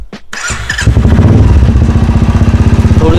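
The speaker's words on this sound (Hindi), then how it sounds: "पहले बाइक को फुल स्टार्ट करते हैं, फिर चलते हैं अपन।" A motorcycle is cranked and fires up close by, then settles into a loud, steady, rapidly thumping idle as the engine warms.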